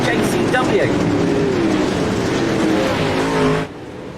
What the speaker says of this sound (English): we've got a car going around in the background